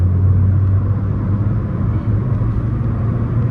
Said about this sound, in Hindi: और मैं इस टाइम गाड़ी को पूरा हाई रेव कर रहा हूँ 4000 RPM पे